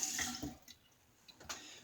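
Water runs and drips briefly during shaving lather preparation, a few soft splashes and trickles close by with no one talking.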